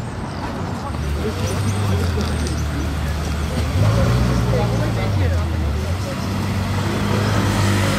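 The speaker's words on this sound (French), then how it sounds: "Encore une voiture qui passe sans venir devant nous" A car drives along a Paris street on a Sunday, its engine rumbling and shifting pitch as it moves past amid steady traffic noise, with people talking over it.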